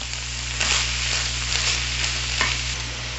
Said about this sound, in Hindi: इन सबको अच्छे से फ्राई करेंगे।